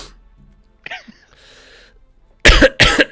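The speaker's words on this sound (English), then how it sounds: "You'll hear me cough a couple of times" A man coughs twice in quick succession near the end, loud and close, after a few seconds of faint background chatter and a small throat sound.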